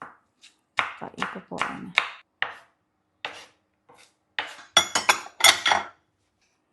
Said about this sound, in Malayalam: അപ്പോൾ അതേ വെളുത്തുള്ളി കട്ട് ചെയ്തെടുത്തിട്ടുണ്ട് ചെറുതാക്കിയിട്ട്